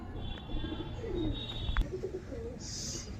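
Pigeons being released from a loft give low, soft coos and faint chirps nearby, with scattered rustling and a brief flutter of wings.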